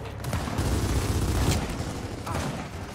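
Gears of War 4 gameplay with a dense, continuous roar of explosive blasts and gunfire; a loud grenade detonation is buried in the constant heavy combat noise.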